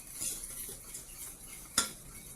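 A utensil mixes cocoa pudding mixture in a saucepan, mostly faint and quiet, with one sharp metallic clink against the pot near the end.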